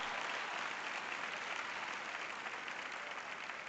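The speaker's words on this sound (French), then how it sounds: "j'ai 3 personnes qui applaudissent là-bas" Steady applause from a small group of three people at a church sermon, an even, continuous patter without voices.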